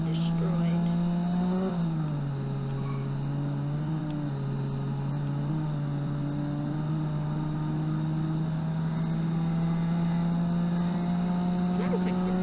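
An economy rear-wheel-drive car driving in the Automation car game, with a steady engine drone holding one pitch, a short dip, then a gradual rise, under talk.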